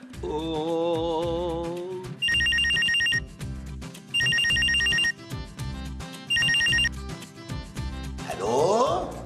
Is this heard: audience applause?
no